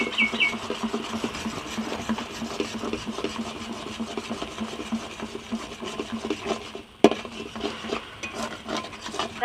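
Gram flour batter is stirred with a metal spatula in a pan, a steady scraping and rubbing that runs nonstop, close and fairly loud, with one sharper knock near the end.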